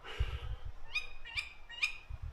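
An owl calls three times in quick succession at a disused Welsh slate mine cemetery, clear hooting notes over a quiet night background with a faint low rumble.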